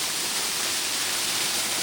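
At Abbigundi falls between Sakleshpur and Mudigere, a small waterfall trickles over rocks and a piece of wood, giving a continuous soft, hissing splash of water, close and unbroken.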